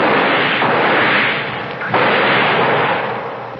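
A loud, sharp blast of gunfire from a 1976 radio horror drama, heard as broadband noise with a distinct burst near the middle, followed by a decaying noisy tail with no talking.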